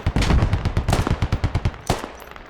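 Rapid bursts of automatic rifle fire crack out in the tactical shooter game Squad, a dense string of close, loud shots followed after a short pause by a final couple of rounds.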